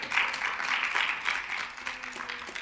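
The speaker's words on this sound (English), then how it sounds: "you're clapping" An audience applauding at a talk on healthy ageing, a brief burst of steady clapping at moderate distance.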